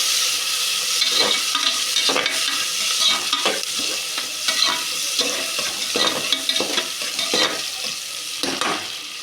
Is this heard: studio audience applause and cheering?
no